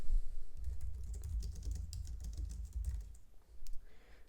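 Computer keyboard typing while a Grafana dashboard is renamed: a dense, steady run of quick key clicks, close and clear, pausing briefly near the end, with no talking.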